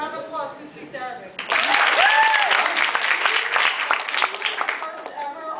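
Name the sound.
audience applause from Arabic speakers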